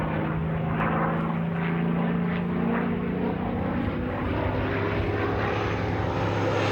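A Supermarine Spitfire Mark IX makes a low pass, its piston engine a loud, continuous propeller drone with a steady throbbing hum that holds strong for the whole stretch.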